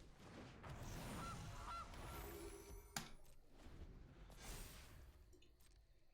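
In the card game Magic: The Gathering, a goose card's sound effect plays a few honking squawks, near and moderate in volume. The honks mix with soft clicks and a sharp tap midway before trailing off.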